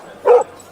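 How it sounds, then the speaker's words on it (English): A single short dog bark at Half Moon Bay beach, heard close and clear over faint background ambience. "So here he is barking at the beach"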